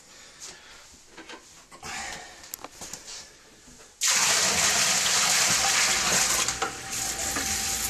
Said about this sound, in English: There it goes, doing exactly what it's supposed to be doing. Taking the water out of the sump pit